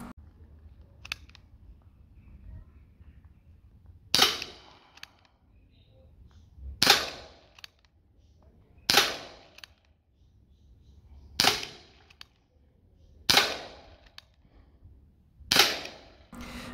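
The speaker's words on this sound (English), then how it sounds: "let's shoot some targets. First up, the 6mm steel BBs with the Colt Python from 10 meters away" A Colt Python revolver air gun fires 6mm steel BBs at targets ten meters away: six sharp, evenly spaced snapping shots about two seconds apart, each clear and alone over a quiet background.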